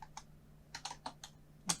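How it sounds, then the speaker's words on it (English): Someone types on a computer keyboard, entering a text prompt: close, crisp keystroke clicks in short irregular bursts with brief pauses between them, and no talking. "Now I'll just type write Python program"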